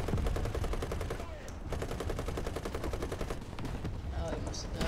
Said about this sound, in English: Use your machine gun.